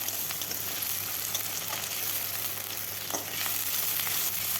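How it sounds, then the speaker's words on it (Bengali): Cut potatoes frying in oil with onion and green chili, a soft steady sizzle with a few light stirring taps, fairly quiet and without speech. "তারপর দিয়ে দেব কেটে রাখা আলু। আলুটাও ভালোভাবে ভেজে নিতে হবে।"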